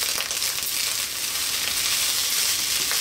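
Rice for vegan broccoli fried rice fries in a pan, a steady close crackling sizzle that holds at an even level throughout, with no talking.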